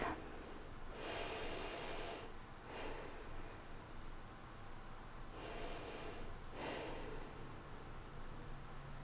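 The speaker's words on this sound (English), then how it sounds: "Nice deep breath." Slow, audible breaths during a yoga session, each a soft airy whoosh of inhale and exhale, two pairs spaced several seconds apart over a low steady room hiss with no talking.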